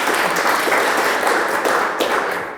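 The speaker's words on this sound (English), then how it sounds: "Can we have a big round of applause for Prash, please?" A crowd at a startup pitch session gives a big round of applause, a dense, even wash of clapping that holds steady throughout and tapers slightly at the end.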